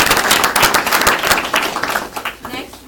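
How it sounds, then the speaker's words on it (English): An audience applauds after a speaker at a Coeur d'Alene Happy Hour recovery meeting; dense, steady clapping from many hands fills the room, tapering slightly toward the end. "Give her one more round of applause."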